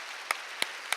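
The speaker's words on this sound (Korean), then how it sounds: "박수 좀 세게 좀 치세요." A church congregation claps during a Korean sermon, three sharp, evenly spaced claps in quick succession standing out against a soft background hiss.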